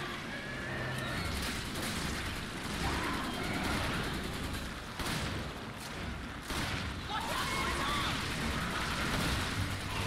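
Gunfire in the video game Resident Evil 5, rapid repeated shots and bursts layered into a busy, loud battle din that runs continuously, with talk heard in the mix.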